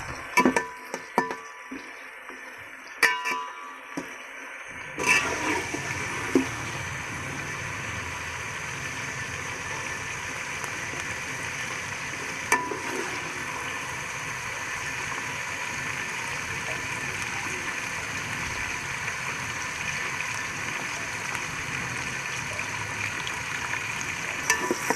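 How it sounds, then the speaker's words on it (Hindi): Potatoes frying slowly in oil for a mixed vegetable dish, a soft continuous sizzle that begins after a few quiet clicks and knocks, with occasional light clatter. "अब मैं इनको आराम आराम से तलूंगा।"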